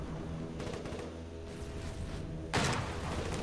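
Artillery fires in the video game Foxhole, with dull booms and thuds rumbling under a constant wash of battlefield noise. A sharper, louder blast near the end stands out, and no one speaks.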